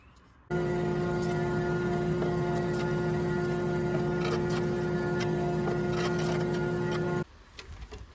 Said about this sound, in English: I'm going to run it through the drum sander and get both sides flat